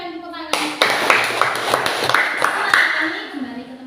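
Sixth-grade schoolchildren clap together in a classroom after a presentation, a short burst of scattered, lively handclaps with voices mixed in near the start.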